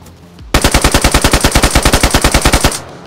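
Rapid automatic gunfire in the video game DayZ Standalone, a loud, evenly spaced burst of about twenty shots lasting roughly two seconds, then cutting off into quiet.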